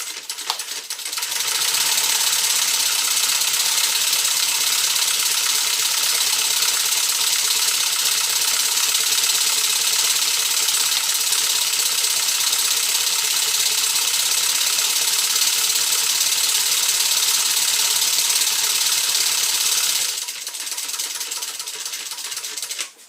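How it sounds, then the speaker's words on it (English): A sewing machine runs steadily for about twenty seconds stitching a faux croc tote bag, a loud close continuous whirring hum that starts and stops abruptly, with no voices. "So go ahead and stick this in, line this up, and we'll stitch."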